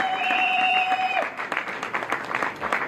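Guests at a wedding reception break into clapping after a held, whistle-like tone fades out, the applause then carrying on in uneven bursts to the end.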